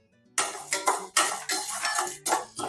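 Toor dal tossed into hot oil in a pan on a high flame, a series of loud close scraping and rattling stirs over a crackling fry, no voices.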